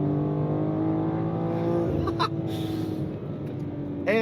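BMW M2 CS accelerating hard, engine note climbing through a rising pull before a brief break, then continuing with a loud, close drone inside the car, with faint voice underneath.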